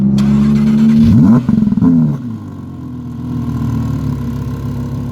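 A 2019 Audi R8 engine fires up and roars, revs sharply a few times with rising and falling pitch, then settles into a deep, rumbling idle.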